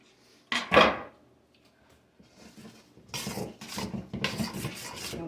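Corned beef hash ingredients with pepper being mixed in a pan: a sharp scrape early on, then a quiet stretch, then steady scraping and rubbing strokes of a utensil against the pan, close and fairly loud.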